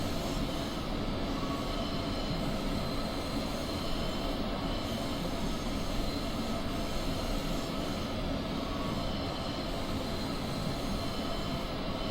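An ÖBB 1116 electric locomotive runs on the Semmeringbahn in Train Simulator 2016, giving a steady, dense rolling rumble with a faint high hiss that holds evenly throughout, with no voices.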